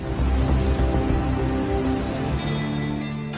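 Rain pours steadily during a late-afternoon storm, a dense, even hiss of drops striking surfaces nearby, with no voices.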